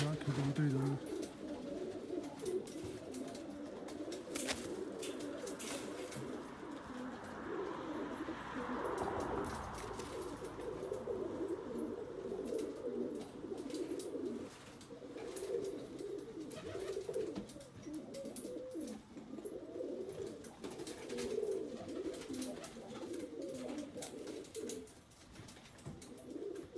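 Soft, repeated cooing from a pair of pigeons, a seven-box cock and a white hen with black eyes, runs on steadily at a low level with a light background hum.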